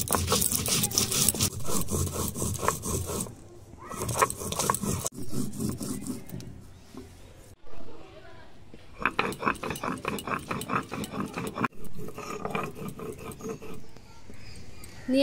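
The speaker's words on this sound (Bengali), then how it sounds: "এই কটা বেটে দিচ্ছি।" Cumin, mustard seeds, dried and green chillies and ginger are ground by hand into a spice paste, giving repeated rough scraping and rubbing strokes at close range in uneven bursts with brief pauses.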